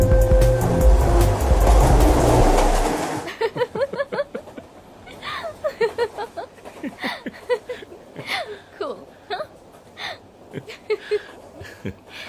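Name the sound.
train running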